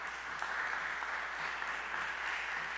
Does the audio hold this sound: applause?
yes